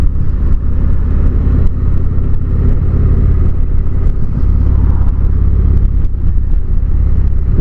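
Steady, loud engine drone and road rumble from a vehicle coasting downhill in fourth gear on Pine Creek Pass near Jackson Hole, continuous and even with no clear revving.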